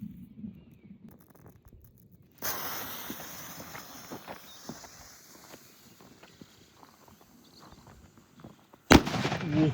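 An Exploder 5 firework goes off against a padlock outdoors: fizzing and crackling as the fuse burns and the charge starts, then a sharp, loud blast near the end, no speech.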